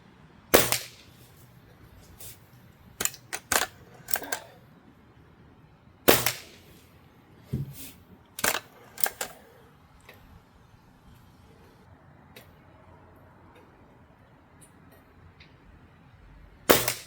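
Daisy 1101 air rifle fired at targets outdoors: a string of sharp, snappy cracks spaced a second or more apart, some doubled with a quick impact tick, over a quiet background.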